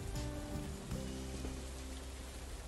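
Steady rain in the video game Trader Life Simulator patters on surfaces, a constant wash of drops with a low tonal hum underneath, and no one speaking.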